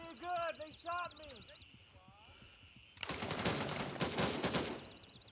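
Dense burst of rapid gunfire in the military shooter game Gray Zone Warfare, loud and close, crackling continuously for a couple of seconds after stretches of voices talking.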